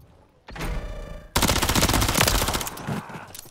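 Automatic weapon fire in a Call of Duty MW3 ranked match, starting as a short rattling burst and then breaking into a loud, dense stream of rapid shots that runs for a few seconds.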